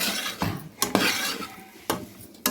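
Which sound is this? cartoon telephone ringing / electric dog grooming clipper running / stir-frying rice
stir-frying rice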